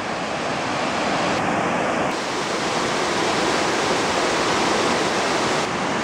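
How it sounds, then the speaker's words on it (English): Bond Falls waterfall heard from a nearby accessible trail, a steady, loud broadband roar of rushing water that fills the scene throughout with no speech. "I can hear the falls. They're over there. This is Bond Falls."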